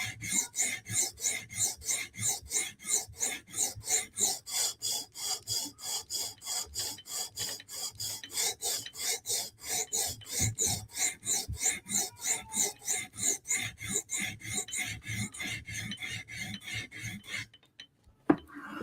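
A Para 3 or Benchmade 940 knife blade drawn across the stone of a TSProf Kadet sharpener in fast, even back-and-forth passes, a bright rhythmic scraping rasp, close and steady, stopping shortly before the end.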